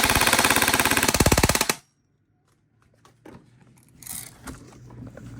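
An E&C 319 airsoft AEG rifle fires a loud, rapid full-auto burst of under two seconds, then stops abruptly, leaving faint handling clicks and light background noise.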